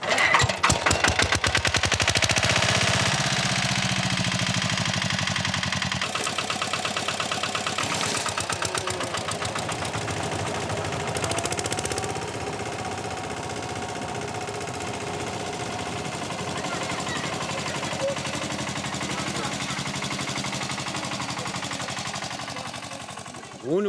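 An old tractor on the Bissagos Islands, started with a rope: rapid, loud knocking engine firing that settles into a steady, rough running chug.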